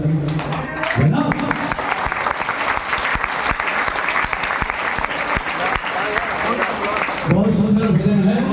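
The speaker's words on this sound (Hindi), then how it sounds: "चलो बजाओ राधा नाम की ताली" A crowd claps steadily in time at a Hindu devotional bhajan gathering for Radha, a dense rhythmic clapping that carries on for several seconds, with singing voices heard at the start and end.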